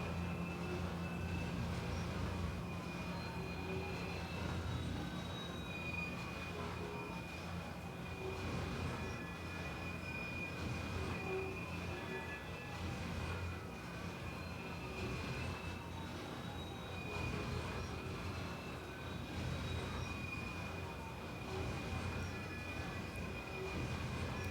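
A freight train rolls steadily past a level crossing for the whole stretch, with a continuous low rumble of wheels and cars, metallic squeals and a sustained horn-like tone, moderately loud and close, and no talking.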